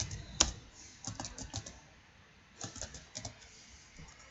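Close, clear keystrokes on a computer keyboard while HTML code is typed, coming in short irregular clusters of clicks separated by brief pauses, with no talking.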